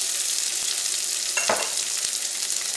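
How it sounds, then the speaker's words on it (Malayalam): Onion sautés in hot coconut oil alongside dried chilies, ginger and curry leaves, a dense close frying hiss with a brief louder spatter midway. "ഈ ചൂടായ വെളിച്ചെണ്ണയിലേക്ക് സവോളയും ഇഞ്ചിയും കറിവേപ്പിലയും ഉണക്കമുളകും ഇട്ടിട്ടൊന്ന് വഴറ്റിയെടുക്കുക"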